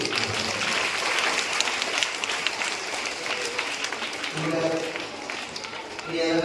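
A school assembly crowd of students and teachers gives a class teacher a round of applause. The clapping is loud, dense and continuous throughout, with a slight swell near the end.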